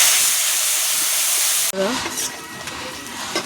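Onion and garlic paste sautéing in a hot pan for kuche fish curry, a loud steady hiss that abruptly drops to a quieter crackling sizzle as the paste goes in, with a voice speaking over it.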